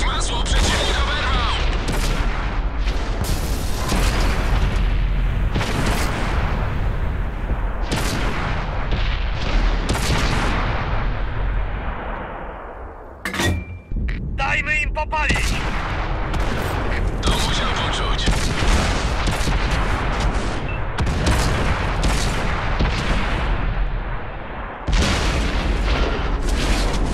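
Heavy booming tank cannon blasts and rumbling explosions in World of Tanks roll on almost continuously, dense and loud, with a brief lull near the middle and voices mixed in.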